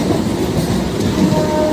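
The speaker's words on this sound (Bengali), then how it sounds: "তাই ট্রেন এখন কাকদ্বীপ স্টেশন থেকে ছেড়ে দিয়েছে।" A passenger train pulling out of Kakdwip station, heard from inside the carriage: a steady close rumble of wheels with a faint clickety-clack over the rails and a sustained tone that may be a horn, with no talking.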